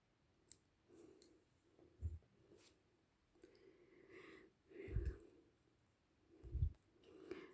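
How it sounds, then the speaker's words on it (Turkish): Scissors snip through embroidery thread for Turkish needle lace (iğne oyası), giving a few soft, close clicks and snips spaced apart in a quiet room, with faint handling sounds between them. "iplerimi kesiyorum."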